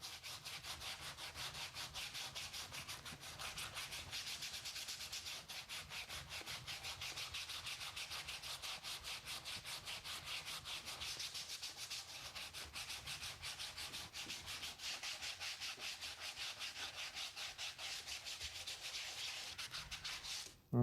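A fiberglass part is sanded by hand with coarse sandpaper, giving quick, rhythmic back-and-forth scratching strokes that repeat evenly and continuously for about twenty seconds, close and steady with no talking.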